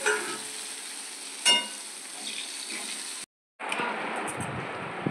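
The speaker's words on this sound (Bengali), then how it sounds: "এই যে পটল ভাজা হচ্ছে।" Pointed gourd (potol) frying in a pan gives a steady close sizzle with light crackles and a brief clatter, cut by a short gap of silence before the hiss resumes.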